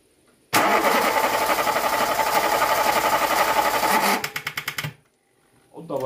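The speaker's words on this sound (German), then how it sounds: "Und drehen den Motor." A classic Polo engine is cranked by its starter for several seconds with a steady whirring churn that stutters and cuts off as the battery power runs out, followed by a brief silence.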